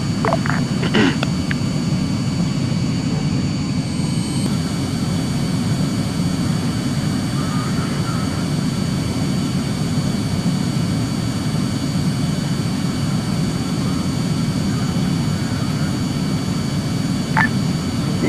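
Aircraft taking off in the video game Arma 3, a loud, steady jet roar with a low rumble that holds unbroken, with a few faint clicks early on.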